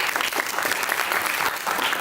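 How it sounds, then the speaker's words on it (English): Applause from an audience at a school personal project exhibition, a steady close clapping of many hands that fills the short moment without pause. "Let's give her a round of applause for that."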